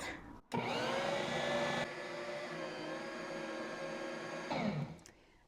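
Stand mixer running on speed 1 through whole wheat bread dough, a steady close motor whine with a slight drop in pitch partway through, starting and stopping abruptly.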